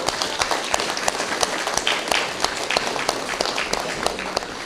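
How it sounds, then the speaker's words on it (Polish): An audience claps through an election campaign meeting with voters in Kępice, Poland, a steady, dense patter of many hands with sharper individual claps poking out, moderately close and sustained. "Brawa."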